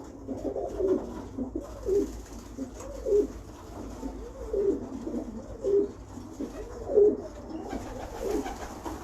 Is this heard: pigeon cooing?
yes